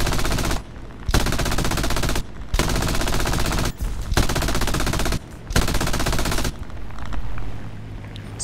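Machine guns of an I-15 biplane firing at anti-aircraft positions in War Thunder: loud, close, sustained rattling bursts separated by a few short pauses, with the last stretch tailing off into engine drone.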